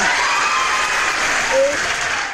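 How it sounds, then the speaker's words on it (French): Clapping during a live stream, a steady burst of applause lasting a couple of seconds, with a voice speaking over it. "J'applaudis pour lui dire merci."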